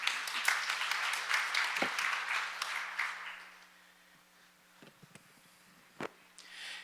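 Forum audience applauding to welcome a speaker to the stage, a dense wash of clapping for about three seconds that fades out, followed by near silence broken by a few small knocks and shuffles.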